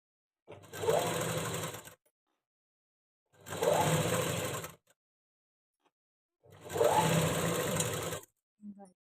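Sewing machine stitching a blouse beside its piping thread, three even bursts of fast whirring stitches about one to two seconds long, separated by short silent pauses, close and clear.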